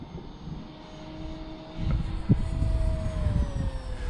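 A radio-controlled model airplane engine throttles up in an open field, a steady whine that rises in pitch and grows louder partway through, with a brief knock and wind-buffeted rumble underneath.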